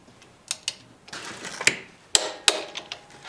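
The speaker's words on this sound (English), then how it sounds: "then tighten this bolt to 80 foot-pounds" Ratchet wrench tightening the harmonic balancer bolt on a Jeep 4.0L engine, heard as several sharp metallic clicks in irregular bursts, close and fairly loud, with no talking.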